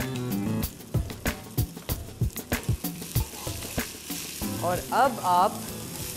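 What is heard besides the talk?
garlic and onion frying in a pan, stirred with a spoon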